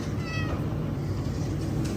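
A cat meows a few times over the steady low rumble of a diesel truck engine, fairly close.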